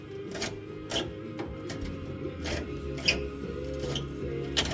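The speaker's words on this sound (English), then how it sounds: "I've never had a socket wrench better than this one." A ratcheting socket wrench clicks while working the fuel tank bolts on a 1982 Ford F-100, giving steady, fairly quiet mechanical ticking with several sharper clicks at irregular intervals.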